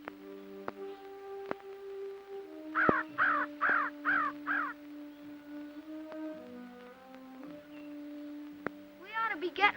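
A crow caws in a film scene, a run of five loud harsh caws in quick succession, then another short burst near the end, heard over a sparse orchestral score with no talk.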